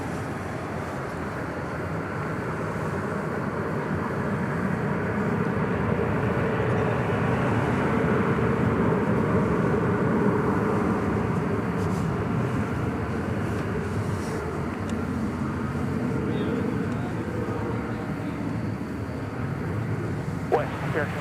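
An Airbus A321 takes off from runway 18 left at Dallas Fort Worth airport, a broad continuous engine roar that stays loud and even for the whole stretch.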